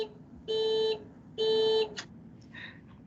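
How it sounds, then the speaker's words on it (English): An electronic alarm sounds during a smart-city test scenario in Trento, giving two sustained, identical beeps followed by fainter chirps in a quiet setting. "we also have the audio to sound the alarm"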